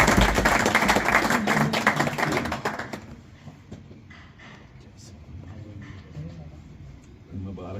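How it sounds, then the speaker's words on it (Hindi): An audience at a traders' association meeting applauds in a dense, loud burst for about three seconds. The clapping then drops away to quieter room noise with talk. "तालियां।"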